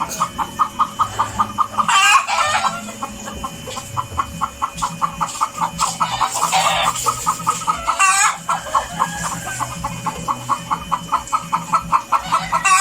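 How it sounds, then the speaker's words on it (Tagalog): Chickens in a coop cluck steadily and repeatedly close by, with a few louder squawks and a rooster-like call breaking through, over a low mechanical hum from a water pump. "Nagkutak di manukan."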